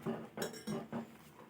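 A utensil stirs Maggi noodles in a pan, producing four soft, evenly spaced metallic scrapes and clinks, fairly quiet and close, with no talking.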